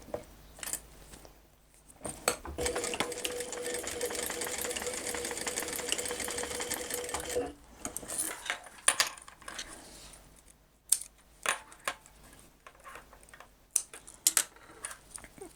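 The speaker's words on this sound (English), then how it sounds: "So all I'm going to do here is sew along or across in 2 lines." A sewing machine stitches two lines across a cross-body bag strap, running steadily for about five seconds, then giving way to scattered clicks and handling noises.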